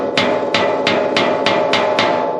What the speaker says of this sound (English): He's tapping those in with a brass hammer so that we don't mar up the outside of the drive rivet.